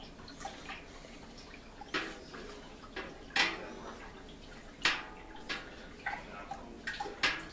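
A thick mead mixture is stirred in a pot, producing faint liquid sloshing with intermittent scraping and knocking taps against the pot at uneven intervals, all fairly quiet with no voices.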